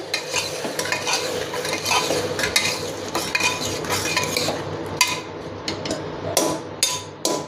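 Vegetables being stirred into pav bhaji in a metal pan: steady scraping and clinking of a spatula against the pan over a light sizzle, close and continuous, with sharper scrapes near the end and no talking.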